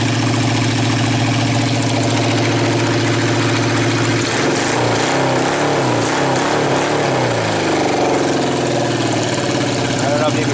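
Motorcycle engine idling steadily, then revved from about four seconds, the pitch rising and wavering through several throttle blips, loud and close throughout with no talk over it.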